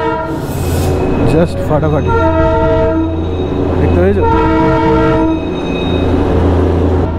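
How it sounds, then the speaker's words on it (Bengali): Darjeeling toy train near Sonada station sounds a loud, sustained horn twice, layered over the steady rumble and clatter of the running train close by, while people talk over it. "আর এখান দিয়ে জাস্ট টয় ট্রেনটা যাবে।"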